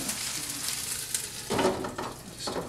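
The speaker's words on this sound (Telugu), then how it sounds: "గోంగూర చాలా ఫాస్ట్గా సాటే అయిపోతుంది." Gongura leaves sautéing in a covered pan, a steady close sizzle and crackle of frying that swells briefly near the end, with no talking.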